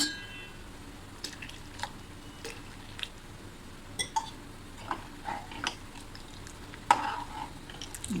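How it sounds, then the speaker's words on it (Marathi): Spoon stirring Maharashtrian curd kadhi in a pot, giving soft scattered scrapes and clicks at an irregular pace over a quiet kitchen background, with no talking. "आता आपल्याला हे असं व्यवस्थित छान ढवळून घेऊ"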